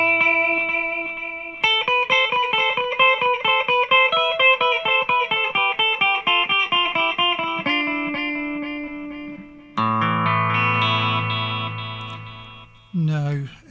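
Electric guitar played through a Tom'sLine APE3S digital delay pedal, a bright picked riff with each note trailing into repeating echoes, loud and sustained with no talking, ending on a held chord.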